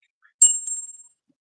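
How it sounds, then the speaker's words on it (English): A single small bell gives one bright, high ding that rings on and fades away over about half a second in an otherwise quiet room. "we're going to do a bell ring"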